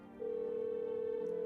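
A phone line tone during a call in the video game No, I'm not a Human: a single steady, clear electronic tone starts abruptly and holds unbroken to the end, alone.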